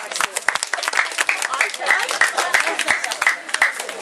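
Group of children clapping and applauding at an end-of-term report card picnic in Denizli, a dense rapid patter of hand claps filling the whole stretch with steady loudness.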